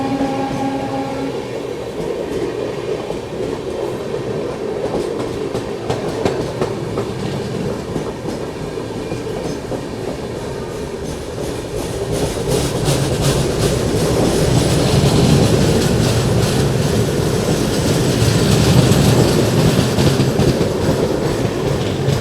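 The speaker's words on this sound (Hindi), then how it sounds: "ये जा रही है गोरखपुर LTT।" The Gorakhpur LTT express rolls through Govindpuri Junction railway station with a rumbling clatter of wheels on rails, growing louder and closer as the coaches pass steadily by.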